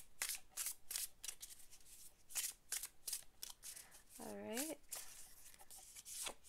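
Tarot cards shuffled and pulled from the deck in a rapid, close series of riffles and flicks, with a brief spoken word and a short hum in the middle.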